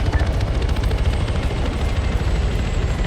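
Helicopter in the video game Arma 3, a loud, continuous rotor thump and engine drone close by with no talk.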